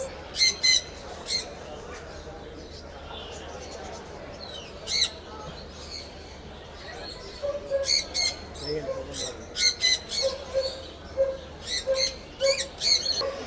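Blue macaw chicks in a warm enclosure at a national livestock week fair let out harsh squawks close by, in uneven clusters of bursts that grow denser toward the end, over a low background hum.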